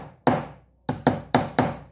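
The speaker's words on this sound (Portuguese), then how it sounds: "você sente com um martelinho" A small hammer taps a metal part of a Jacto J6200 sprayer motor that won't start, giving five sharp, close strikes: one single knock, a pause, then four in a fairly even rhythm, with no voices.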